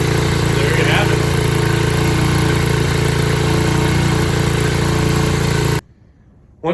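SYXMoto VK 58cc kids' dirt bike engine running at a loud, close, steady idle-like drone, cutting off abruptly near the end.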